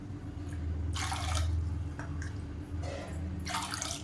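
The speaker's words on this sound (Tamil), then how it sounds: "இதில் 4 கப் அளவுக்கு தண்ணி சேர்த்துக்கலாம்." Water poured from a cup onto soaked sago in a kitchen, a few splashy bursts of pouring separated by short pauses over a low steady hum.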